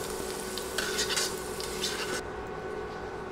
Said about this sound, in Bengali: আলু দিয়ে অনবরত নেড়ে ভেজে নিচ্ছি